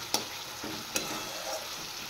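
Bengali spice paste (masala) with turmeric and salt frying in a pan for a boal fish curry, a steady close sizzle broken by a few sharp clacks of a spatula stirring.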